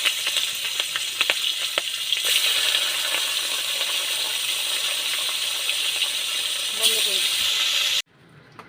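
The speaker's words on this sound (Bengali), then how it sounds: "বাকি মাছগুলো ভেজে নেবো এইভাবেই।" Rohu fish pieces frying in oil in a pan, a loud steady hiss and crackle with a few light clinks and stirs, cutting off abruptly near the end.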